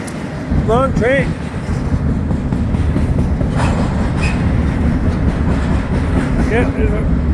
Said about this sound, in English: Long train.